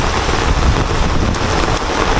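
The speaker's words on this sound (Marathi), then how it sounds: "पण पाऊस काय बेकार काम आहे" Dense, steady roar of heavy rain pouring down, loud and unbroken, with a gusty wind-like rush mixed in.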